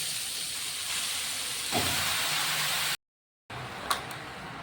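Chopped bottle gourd hits a hot pan of oil tempered with cumin, green chilies and asafoetida. It gives a loud, steady sizzling hiss that surges as the pieces land, breaks off briefly, then resumes with a few sharper crackles.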